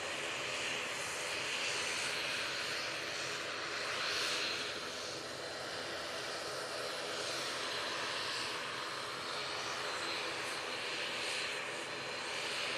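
An Etihad airliner at Manchester Airport moves onto the runway with a steady, moderately distant jet engine roar that swells slightly and holds for several seconds.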